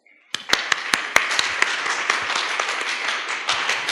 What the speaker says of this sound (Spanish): Entonces damos un aplauso a Armando González.